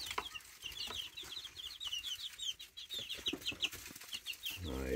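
Chickens cluck and chirp in quick, overlapping bursts at close range on an off-grid homestead, with scattered scratching and movement beneath the calls and a louder thump at the end.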